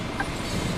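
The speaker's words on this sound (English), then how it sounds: "I can hear the trains." A low, steady rumble of a train rolling past in Bus Simulator, continuous and fairly close, with a faint brief tone near the start and no talking.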